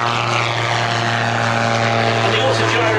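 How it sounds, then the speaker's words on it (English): A Rotorsport Calidus autogyro's steady, loud droning engine with a low propeller-like hum and strong harmonics holds throughout, with a faint voice underneath. "And the autogyro takes to the skies oh so gracefully."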